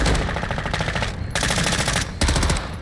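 Rapid automatic gunfire in the video game Call of Duty DMZ, loud continuous bursts with short breaks, close and dominant throughout.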